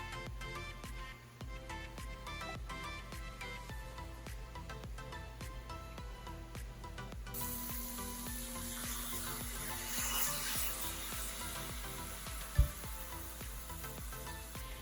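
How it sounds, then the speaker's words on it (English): Lamb chops cooked with wine sizzle and fry in a hot pan, a steady close crackle that brightens and hisses louder after a few seconds, with a single clank near the end. "Listen to that sizzle."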